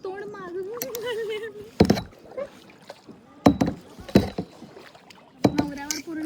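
Kayak paddle strokes splash through the water at Khavane on the Konkan coast, several sharp bursts in an uneven rhythm, close by, with people talking and shouting between the strokes.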